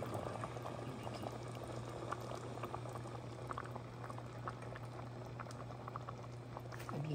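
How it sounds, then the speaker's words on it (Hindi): Water comes to a fast rolling boil in a pot on a high-speed gas burner, with dense continuous bubbling and popping over a low steady hum, close and even throughout. "मैंने भी पानी डाला ही था और ये इसमें बबल्स बनना शुरू हो गया।"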